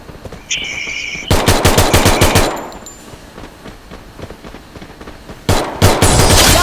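Automatic gunfire from the Garena Free Fire MAX video game: a long rapid burst of shots, then a pause and a second loud burst near the end, played alone without talk.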